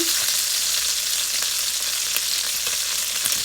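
Milkfish fries and sizzles in a pan as it browns, a steady loud crackling hiss with faint pops throughout, no voices.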